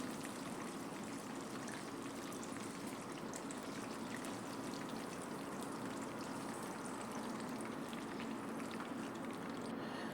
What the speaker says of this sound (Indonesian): Nah, ini sisanya goreng.